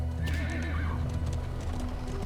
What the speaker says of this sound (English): Horses, y'all need to chill out.